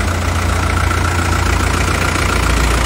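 A Kubota tractor diesel engine runs at a steady, loud idle, close to the microphone, with a constant low rumble and a dense mechanical hum. There is no speech.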